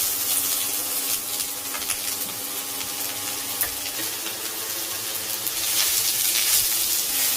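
Sliced onion sautés in coconut oil with garlic in a pan for chicken rolls, giving a steady, close hiss and sizzle with small crackles throughout and no talking.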